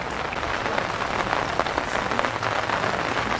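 Steady, dense rain pattering on a surface, a constant hiss of drops with no pauses, fairly loud and close.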